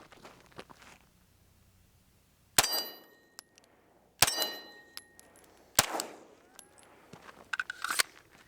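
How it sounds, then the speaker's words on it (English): Canik Elite Combat pistol fired one-handed outdoors, three sharp loud gunshots spaced about 1.5 seconds apart with ringing tails, then a fourth quicker crack with metallic clinks. "let's go ahead and pop off a couple rounds one-handed and see how the muzzle rise is"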